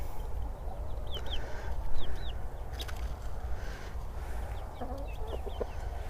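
Chickens clucking, a small Appenzeller and a large light Sussex among a mixed flock in a run, with repeated short clucks and calls over a steady outdoor background.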